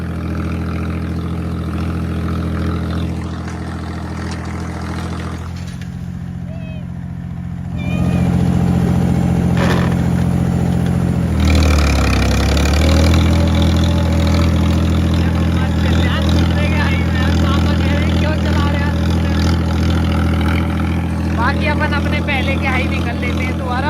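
A Kabootar 265 DI turbo tractor pulling an 18-disc harrow drones steadily and loudly up close, its pitch shifting partway through, while someone talks over the engine.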